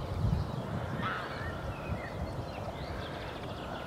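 A small group of geese honks near Schiphol in the Netherlands, a few distant nasal calls over a low steady background rumble.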